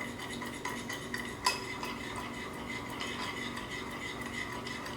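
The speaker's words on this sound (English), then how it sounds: "Keep stirring that." Peanut coconut sauce for pork satay is stirred in a pan, soft utensil scrapes and clinks against metal over a low bubbling hiss, with one sharper knock partway through.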